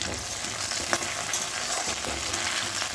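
Vegetable stalks and tender greens fry in a wok, a dense, loud continuous sizzle with faint stirring scrapes underneath, close by and without speech.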